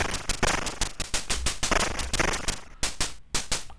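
Rapid shots fire at swarming enemies in the Atari ST game Time Bandit, a dense burst of crackly, popping blasts in quick succession with brief gaps, loud and continuous throughout.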